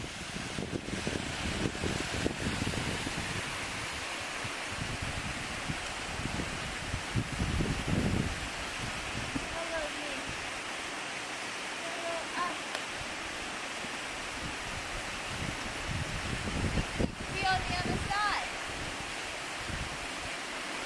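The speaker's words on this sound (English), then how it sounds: "It's just a little waterfall." A small waterfall in a creek in the Catskills, New York, gives a steady broadband rush of falling water that stays constant throughout, with occasional rustling, wind buffeting and faint bird chirps layered over it.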